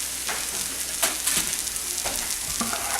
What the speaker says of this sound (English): A little quick stir on this.